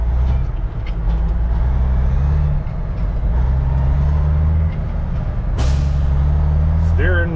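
A Ford LT9000 truck with a Cat 3406B engine pulls away, its deep diesel rumble rising and falling through gear changes, with a sharp air hiss near the end.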